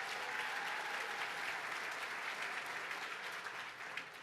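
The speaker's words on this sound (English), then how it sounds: "Let's give him a round of applause." A large audience at a State of the State address gives a sustained round of applause, even and unbroken clapping heard at a moderate distance for the whole stretch.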